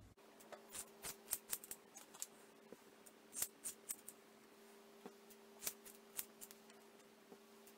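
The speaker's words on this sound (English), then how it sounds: "Lift it right out from the head and snip." Kitchen scissors snip through short hair held out from the head, a quiet, close series of crisp cuts in irregular bursts, heard alone with no talking.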